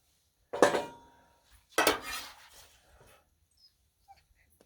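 A metal spatula scrapes across a Blackstone griddle where mini pizzas are cooking, giving two short, close rasping strokes about a second apart, followed by near silence with faint clinks.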